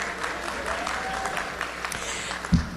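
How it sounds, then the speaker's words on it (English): A graduation ceremony crowd gives a brief, steady round of clapping for the graduating class, moderately loud and continuous, with a single sharper knock near the end. "Please join us in congratulating these graduates on their accomplishments with a round of applause."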